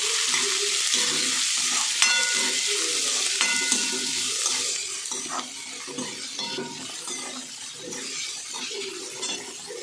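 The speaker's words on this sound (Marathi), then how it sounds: "आता याच्यामध्ये बारीक चिरलेला कांदा, चांगला कांदा परतून घ्यायचा." Finely chopped onion sizzles in hot oil with garlic for a Dhaba-style palak chole, while a spoon stirs and scrapes the pan with occasional sharp clinks, steady and close throughout.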